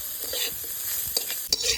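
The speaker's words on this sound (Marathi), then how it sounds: "आता आपण याच्यामध्ये खोबरं, लसूण आणि आलं पण घालून भाजून घेऊया" Grated coconut, garlic and ginger sizzle as they roast in a kadhai for a chicken rassa masala while a utensil stirs and scrapes, with a couple of sharp knocks near the end.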